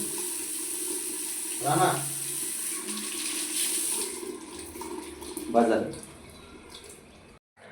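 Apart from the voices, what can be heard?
shower water running while bathing a pet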